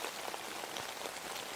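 Gentle rain falls in a soft, even patter of drops on a surface, a steady hush with no voices.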